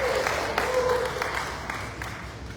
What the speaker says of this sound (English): Big round of applause for Sam.